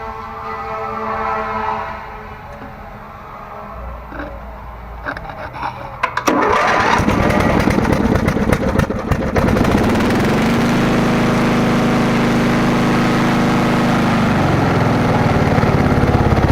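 A Weed Eater riding mower engine cranks briefly, then catches and roars to life. It settles into a loud, steady, close idle that runs for several seconds without any voices.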